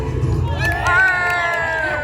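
A crowd of children and adults at a pirate-themed Halloween juggling show cheers and shouts, a loud bright burst of voices with a sustained excited tone running throughout.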